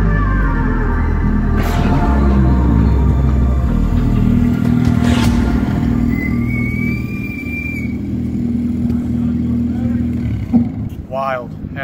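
A Formula 4 race car at COTA roars on track, its engine loud and close with shifting pitch and a brief squeal, and a voice talks over it in places.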